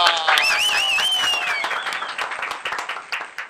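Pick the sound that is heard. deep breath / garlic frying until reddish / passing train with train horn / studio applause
studio applause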